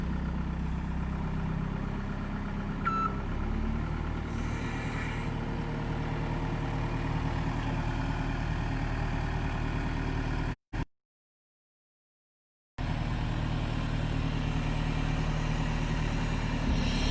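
A New Holland skid steer engine idles steadily at moderate distance, a low continuous rumble with a brief gap of silence partway through before the running resumes.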